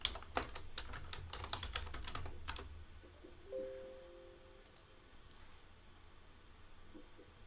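Computer keyboard typing a folder name, a quick run of close, crisp key clicks in the first few seconds followed by quieter room tone with a faint brief tone, no talking.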